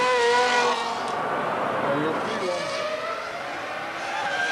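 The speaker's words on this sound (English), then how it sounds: "Pushing the Ferrari a little harder, using a bit more curb here and there, he lowers the lap time again." Ferrari Formula One car from the 2000 season on a qualifying lap, its high-pitched engine howling and shifting pitch as it passes, loud and steady under a commentator's voice.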